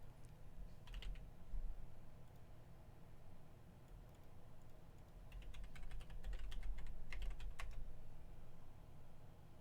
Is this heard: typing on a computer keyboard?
yes